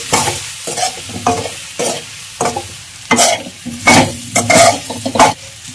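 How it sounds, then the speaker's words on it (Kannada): Drumstick fry with spices and salt stirred in a pan, a spoon scraping in repeated loud strokes over a steady background sizzle, with no talking. "ಈಗ ಚೆನ್ನಾಗಿ ಮಿಕ್ಸ್ ಮಾಡ್ಕೊಳ್ಳೋಣ."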